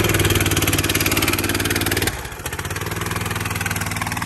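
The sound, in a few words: Honda GX390 engine running on a homemade go-kart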